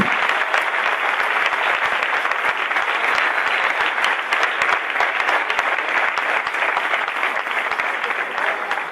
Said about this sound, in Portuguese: Eu quero a igreja aplaudindo ao Senhor.